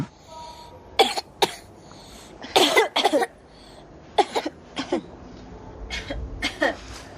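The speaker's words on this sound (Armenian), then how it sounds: "կրկին հազա խնդրեմ" A boy coughing during a doctor's chest examination in the 1991 film Mayrig: a series of sharp, close coughs and throat-clearing bursts in uneven clusters, separated by quiet room tone.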